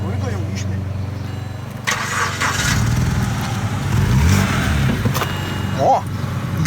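A BMW car that had been sitting parked for a long time cranks and starts, its engine catching and running rough with a sharp pop near the end, while people talk nearby.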